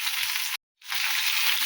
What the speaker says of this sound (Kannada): ಎಲ್ಲನೂ ಚೆಂದಾಗಿ ಹುರಿತಾರೆ.